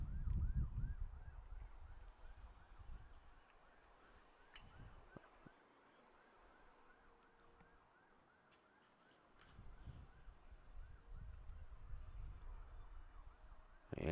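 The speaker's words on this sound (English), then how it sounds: "Here's some sirens in the background." A wailing emergency vehicle siren rises and falls somewhere in the distance, faint and steady, beneath the ambient noise of an outdoor high school baseball game.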